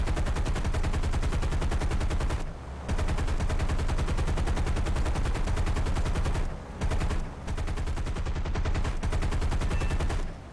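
Bomber gunners on a B-24D Liberator in a flight combat game fire machine guns in dense, continuous rapid bursts, loud and close, with two brief pauses in the chatter.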